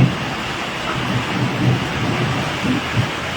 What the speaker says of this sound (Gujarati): અત્યારે જે વરસાદી માહોલ જામ્યો છે તે વરસાદી માહોલના લાઈવ દ્રશ્યો પણ તમે જોઈ રહ્યા છો